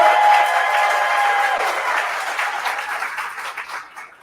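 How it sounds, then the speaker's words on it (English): Audience applause at a reseller show, a broad steady wash of clapping from a crowd that holds strong, then slowly thins and fades toward the end. "Can we really give a loving hand and a round of applause for Katy, Vikki, and Theresa?"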